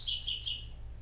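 A small bird chirps close by: a short burst of two or three high, bright tweets, alone with no talking.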